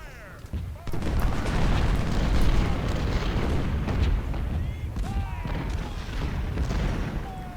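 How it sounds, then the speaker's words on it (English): Artillery bombardment in the Civil War video game Ultimate General rolls on as dense, continuous booming and rumbling cannon fire with sharp cracks, loud and sustained, with a voice speaking over it. "And our bombardment begins."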